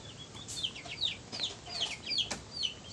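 Several chickens cluck and chirp in quick, overlapping bursts, fairly quiet and close, with no talking.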